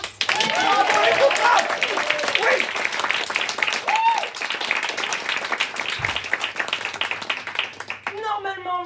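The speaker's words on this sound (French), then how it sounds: "On applaudit les contraintes." Audience applause at a French comedy improv show: dense, sustained clapping from a crowd runs throughout, with voices and music mixed in beneath, then tapers off near the end.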